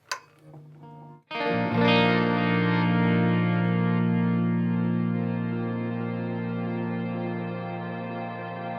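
A digital delay's hold function freezes a brief, quiet plucked tone into a loud, sustained looping drone that rings on evenly and fades only slightly.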